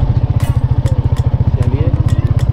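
A motorcycle engine thumps in a fast, even pulse while riding up Marasilli hill near Ranchi, Jharkhand, loud and close throughout, with a voice talking over it.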